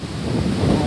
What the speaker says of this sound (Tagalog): malakas na naman ang hangin.